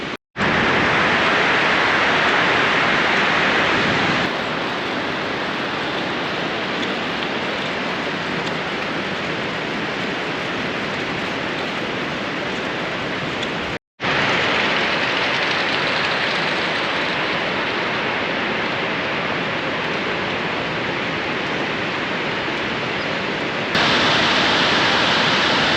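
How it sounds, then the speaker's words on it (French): A big waterfall roars as one dense, steady wall of rushing water, loud and close, with no voices, broken only by a brief cut midway. "Grosse cascade."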